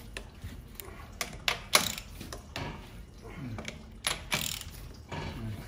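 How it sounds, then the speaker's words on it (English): A hand-held half-inch ratchet with a 21 mm socket loosens lug nuts on a 2010–2015 Prius, giving irregular bursts of close, crisp clicking with short pauses between strokes and faint talk in the background. "Just loosen up the lug nuts with the wheel on the ground and the e-brake on."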